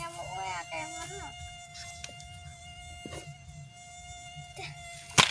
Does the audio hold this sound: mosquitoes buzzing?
yes